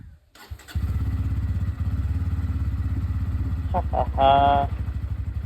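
A Bajaj Pulsar N160 motorcycle engine is started and settles into a steady, close, loud idle with rapid regular firing pulses, then revs briefly near the end while someone talks over it.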